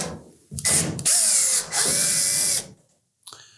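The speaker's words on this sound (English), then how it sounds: "you'll need to remove 2 screws located on the back edge of that top panel" Power drill backing Phillips screws out of the top panel of a Samsung dryer: three close, loud bursts of whirring motor with a rising pitch, then silence and a faint click.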